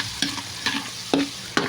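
Onions and tofu stir-fried in a pan, four sharp scraping stirs at a steady rhythm over a constant close sizzle, no talking.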